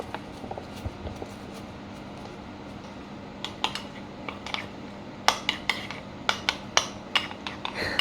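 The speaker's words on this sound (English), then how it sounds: "I'm just going to stir this up a bit more." A spoon clinks and scrapes against a bowl while agave syrup and flax seeds are stirred, with a run of sharp, close taps growing louder and more rapid toward the end over low room hum.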